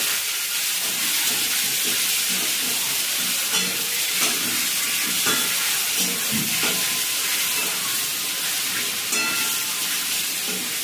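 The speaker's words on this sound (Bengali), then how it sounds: "মাংসটা একটু নেড়ে চেড়ে কষে দেবো।" Chicken pieces stirred and fried in a pan with cloves and a slit green chilli, a steady loud sizzle with scraping stir strokes throughout, no talking.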